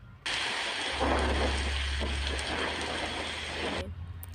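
Rain starting to fall in a Hindi ghost cartoon, a sudden steady hiss of downpour with a low rumbling undertone, loud and continuous for over three seconds before cutting off.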